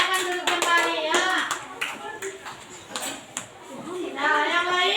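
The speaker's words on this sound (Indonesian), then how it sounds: "kasih tepuk tangan dulu buat kelompok 1" Classroom applause for a student group, many hands clapping in a loose, uneven patter at close range, with children's voices chattering over and between the claps.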